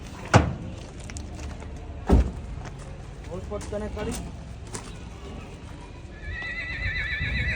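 A horse snorts and whinnies nearby while hooves clop and shuffle as a mare is unloaded from a vehicle, with voices in the background and a brief chirping tone at the end.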